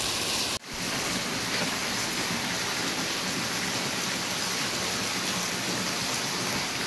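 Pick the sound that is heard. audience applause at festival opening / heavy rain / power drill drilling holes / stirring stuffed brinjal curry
heavy rain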